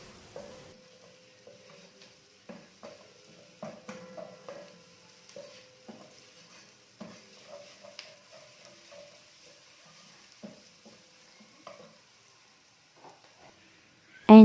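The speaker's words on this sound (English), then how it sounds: "you're going to cook your garlic together with your onion for some time, just about 2 minutes" Garlic and onion fry in a pan, soft intermittent sizzles and scraping stirs coming in short bursts, quiet and close with pauses between, ending on a sharp clatter.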